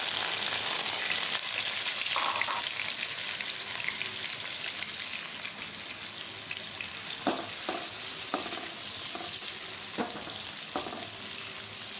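Three medium onions, finely chopped, fry in a pan for a mixed vegetable sabzi, a constant close sizzle broken by a few sharp clicks and pops from stirring, with no one speaking.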